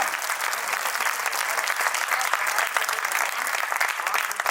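An audience at a Hindi poetry recital claps continuously and loudly throughout, a dense steady wash of applause without any clear speech.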